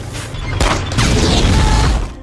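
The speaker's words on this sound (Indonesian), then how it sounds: "Sebuah ledakan terjadi saat Kapten Miller menembak tank Jerman" A German tank blows up in a war film battle scene: a sharp blast breaks out abruptly and is followed by a loud, roaring, crackling rumble that fades after about two seconds.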